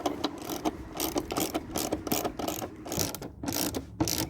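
A 10mm wrench ratcheting out the screws of a K&N air filter housing, rapid close clicking in uneven bursts with short pauses, no voices.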